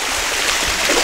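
Garden water cascade running steadily, a close, continuous broadband wash of falling and splashing water with no pauses across the short stretch.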